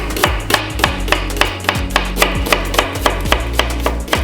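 A knife chops two green onion stalks on a cutting board with about a dozen sharp, evenly paced close knocks, loud and alone.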